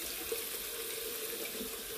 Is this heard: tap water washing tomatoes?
yes